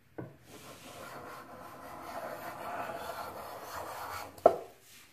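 Hand plane taking very thin shavings from theorbo rib blanks, a soft close swishing stroke that builds and fades, bracketed by sharp wooden knocks at the start and end.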